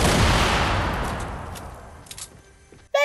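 A single loud gunshot blast in a video game, with a long booming tail that fades over a few seconds, followed by faint scattered clicks and a sharp sound at the end.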